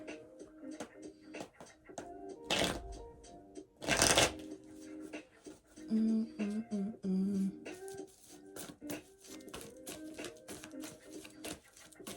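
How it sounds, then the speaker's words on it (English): Tarot cards shuffled by hand in a run of crisp riffles and flutters, with two louder bursts of bridging and some soft handling between, close up and with no talk. "I'm going to shuffle and see what is in store for us this week"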